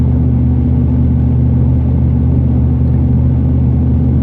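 A car cruising on a country road heading toward a small town, a loud and steady low engine and road rumble from inside the cabin with no speech.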